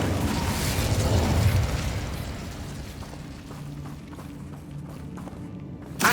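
Incendio fire spell cast in Hogwarts Legacy, a loud whooshing roar of flame that swells and then gradually tails off into a quieter crackle, with a short sharp burst at the very end.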